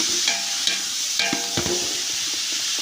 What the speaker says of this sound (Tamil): இனிமேல் அவிச்சு வச்சுருக்க காயை உள்ளே தட்டி கிண்டுவோம்.